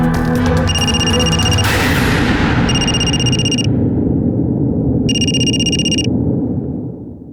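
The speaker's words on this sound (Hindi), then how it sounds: "अपने फोन से नंबर डायल करो उसका" Phone ringing on speakerphone after a number is dialed, in a police crime drama: repeated ringback tones in timed bursts over a steady, loud background score, with no talking.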